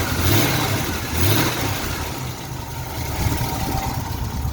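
An old Pontiac Chieftain engine revs up with a rough, throaty rumble, then settles back toward a steady idle, loud and close.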